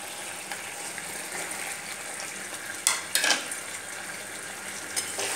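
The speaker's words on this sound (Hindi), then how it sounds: "अब मैं जो चिकन को भून के रखी हूँ फ्राई करके, उसको मैं इसमें धीरे धीरे डाल रही हूँ।" Fried chicken pieces being added to a gravy in a pan for chilli chicken, with a steady low sizzle and a few sharp metal scrapes and clinks of stirring near the middle.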